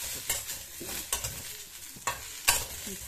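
Coriander leaves roast in a hot pan for a chutney, giving a constant soft sizzle broken by four sharp scraping strokes of a spatula. The strokes are spaced roughly evenly and sit close to the listener, with no voices heard.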